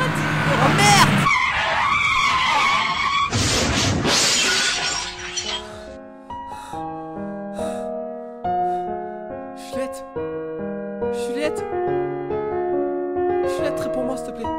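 A car crashes after skidding tires, with loud shattering glass and impact noise up front, then the scene gives way to sustained melodic music tones; voices can be heard amid the chaos.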